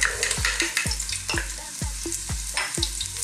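Garlic sautés in oil in a pan or casserole, a constant sizzle broken by regular scraping strokes of a utensil, about one every half second, close and clear.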